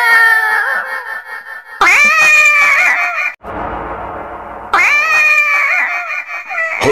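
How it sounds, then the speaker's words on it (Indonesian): Loud cat yowls and caterwauling at midnight in long drawn-out wails, close by, with a brief harsher screech in the middle and no talking. "Hati-hati, suara kucing tengah malam."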